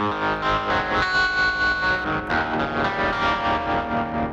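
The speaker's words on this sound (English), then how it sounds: "This is one of the tremolo sounds that you can get out of it." Sustained electric guitar chords through a Rocktron Utopia G300 multi-effects unit, with a pulsing, wavering tremolo and a distorted edge, played steadily and fairly loud with no talking.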